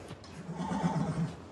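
A horse gives a single close whinny, a wavering, quavering neigh that rises and trembles for about a second, with no talking over it.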